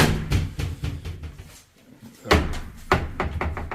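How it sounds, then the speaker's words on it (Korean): A wooden shoe cabinet door in the entryway of an apartment opens with a few close, sharp knocks and clunks, set against quiet room tone with a brief lull in the middle. "신발장 내부를 한번 살펴보겠습니다"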